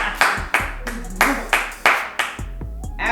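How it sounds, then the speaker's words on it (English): Hands clap in a loose run of about seven sharp, loud, close claps with short gaps, some low background sound underneath. "I hear the claps."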